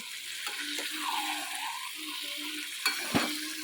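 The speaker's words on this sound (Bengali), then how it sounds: "ভালো করে কষাবো" Curry being sautéed and stirred in a small wok at home, a soft steady sizzle with occasional scraping strokes and a couple of sharper clanks near the end.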